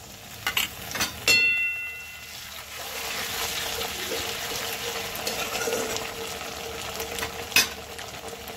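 Ginger paste hits hot fried onions in a pan with a few sharp clicks and clatters, then settles into a dense, continuous sizzle while being stirred, broken by a metallic clink near the end.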